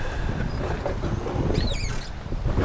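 Wind buffets the microphone on Gilmore Lake, Wisconsin, from a small boat, a steady rough roar with a short whistling bird call breaking through partway.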